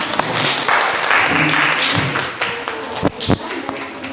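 Classroom applause from students, a loud burst of clapping with taps and thumps mixed in, tapering into scattered knocks and brief voices.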